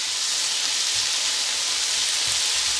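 Tomatoes and onions fry steadily in a pan, giving a loud, even sizzle and hiss throughout with faint low thumps underneath.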